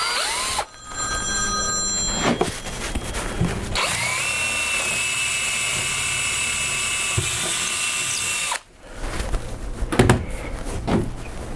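Power drill boring a quarter-inch hole in a block while building a multi-color T-shirt printer, a loud high-pitched whine that runs steadily for several seconds, stops briefly, then resumes, with no talking.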